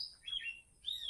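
A kacer, or magpie-robin, gives a few thin, high chirps while bathing, with a short pause between calls, faint and close in a quiet setting.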